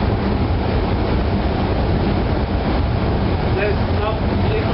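A ship's diesel generator drones loudly in the engine room, a dense, unbroken mechanical rumble, with a voice talking faintly underneath.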